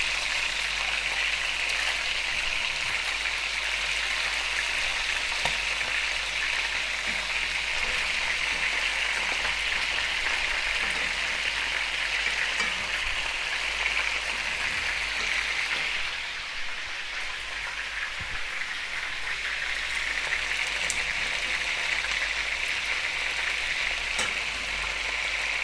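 Chicken pieces fry in a pan for chakhokhbili, a continuous dense sizzle and crackle like steady rain that stays close and even for the whole stretch with no speech.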